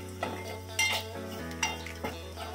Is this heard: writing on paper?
no